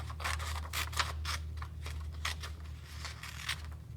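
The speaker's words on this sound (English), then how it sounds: "I'm going to go ahead and trim off the extra side here" Scissors trim a paper notebook template in a quick series of close, crisp snips and paper rustles, under a low steady hum with no talking.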